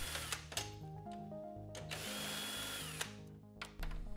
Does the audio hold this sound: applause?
no